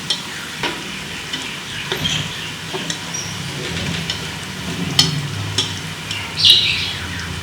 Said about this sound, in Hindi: अभी हमारे प्याज थोड़े थोड़े ब्राउन हो रहे हैं।